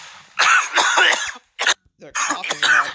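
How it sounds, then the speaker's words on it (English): Several harsh coughs and throat-clearing bursts from men in the game Fallout 76 come in quick irregular clusters, close and loud, with brief silences between. "They're coughing."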